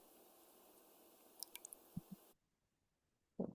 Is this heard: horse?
no